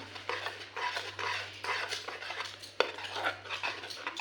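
A spoon stirs dry fruit custard in a metal pot, scraping and clinking against the sides in a steady, repeated rhythm, close and fairly quiet, with one sharper knock partway through.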